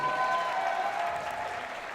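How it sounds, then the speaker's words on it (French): Audience applause at a blindfolded 3x3 Rubik's cube final, greeting a finalist with sustained clapping that fades gradually, some faint crowd murmur underneath. "Un tonnerre d'applaudissements pour Charles Dallos Baltenberger"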